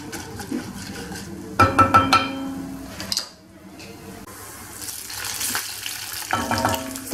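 Chopped onion frying in olive oil for a Moroccan lentil soup, giving a steady close sizzle broken by bursts of clattering and stirring, with a short quieter gap midway.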